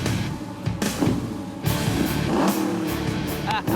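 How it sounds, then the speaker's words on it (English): A 1972 Camaro race car engine revs in loud bursts, with a deep roar that surges, drops off briefly and returns, close by and alone. "It's a 1972 Camaro. Sounds pretty mean."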